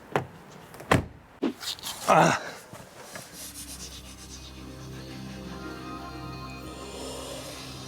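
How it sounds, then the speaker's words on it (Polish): A few muffled thumps and rubbing sounds, one a solid Renault Rafale car door shutting from inside, then a steady low hum like a closed car interior. "jak się siedzi i zamyka się te drzwi"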